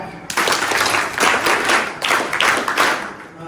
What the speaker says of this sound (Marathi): स्वतःसाठी टाळ्या